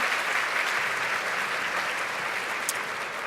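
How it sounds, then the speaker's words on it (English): Steady applause from an audience at an awards luncheon in a hotel ballroom, a dense even wash of clapping lasting throughout with no voices over it. "A round of applause for our sponsors"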